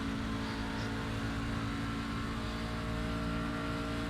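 Steady engine drone of a race truck in the iRacing simulator's truck series at Pocono, a constant hum with tonal whine and no clear pass-by swell, playing alone without talk.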